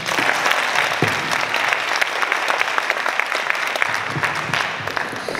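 Sustained applause from a town hall meeting audience honoring Health Task Force members, dense steady clapping at close range that carries through without pause.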